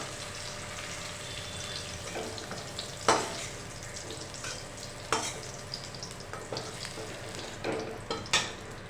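Bitter gourd pieces fry in hot oil in a pan, a continuous sizzle broken by occasional sharp clinks and scrapes of stirring, with no talking.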